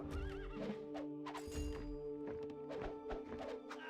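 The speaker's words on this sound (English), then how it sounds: "man, that's a lot of horses. A lot of horses brought." Horses in the strategy game Rise of Nations whinny and neigh repeatedly, with clip-clopping hooves and thunks under a steady game soundscape, loud and continuous.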